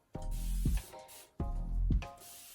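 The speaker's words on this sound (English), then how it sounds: "I'm going to spray some more water on it." A handheld spray bottle mists water onto hair in two separate bursts, each a close, sharp hiss lasting about half a second followed by a short trigger click.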